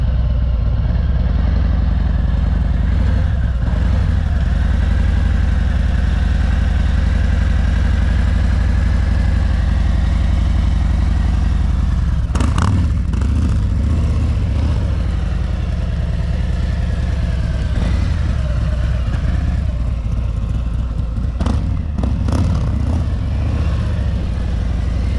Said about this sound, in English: you can creep along at about a walking pace. Keep your head and eyes up. Look straight ahead. Don't look at the ground. Keep the revs around 1800 RPM.